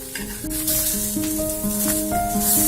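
Banana pitha, a flat cake cooked on banana leaf, sizzles steadily in a pan just after being flipped, a continuous crackle under a background melody.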